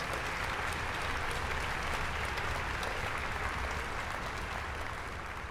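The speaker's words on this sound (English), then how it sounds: "Let's give that round of applause." Sustained applause from an audience at a Philadelphia high school music festival, honoring a singer; dense, steady clapping fills the space evenly throughout without breaks.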